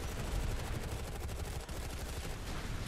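Continuous, dense rattling gunfire in the Planetside 2 video game, steady and loud throughout, with overlapping rapid shots and no clear pauses.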